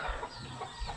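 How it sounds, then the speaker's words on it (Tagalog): Chickens cluck softly nearby in short, irregular bursts over a faint background hum. "Mga huni ng manok"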